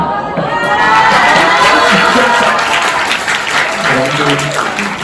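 Audience applause fills the hall at the closing ceremony of the 5th debate festival, a loud, sustained wash of clapping with some crowd noise and cheering, steady throughout.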